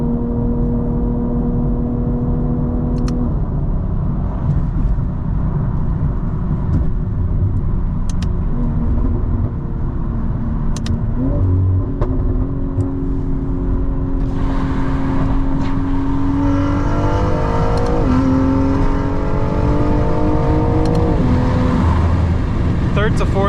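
Tuned BMW M340i xDrive with a custom XHP tune accelerating hard through the gears, engine note climbing steadily to redline with rising shifts audible; loud and continuous from inside the car.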